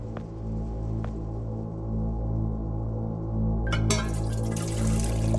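Water pours into a container in the video game The Silent Age, a steady trickling fill under a low humming background, swelling into a louder, brighter gush near the end.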